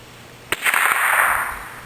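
A .22 rifle fires once at about 60 yards toward a bear-shaped target, a single sharp crack followed by a broad rolling echo that slowly fades outdoors.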